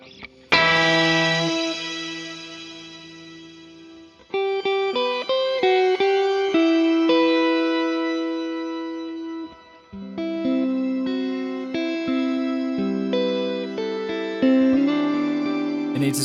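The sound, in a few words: shimmer reverb effect from a guitar pedal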